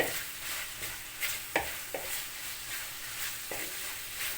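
Lamb meat being stirred and fried in a pan for saç kavurma, giving a steady sizzle broken by a few scraping stirs and clinks, close up with no talk.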